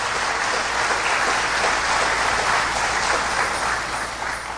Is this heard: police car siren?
no